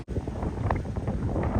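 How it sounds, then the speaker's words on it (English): Wind buffets a microphone outdoors near a road, a continuous low rumbling roar that stays loud from start to finish with no talking. "It's too windy."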